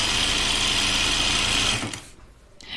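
A sewing machine running a seam on a Willow tank top, a fast steady whirring hum close by that stops abruptly near the end, followed by a brief faint rustle.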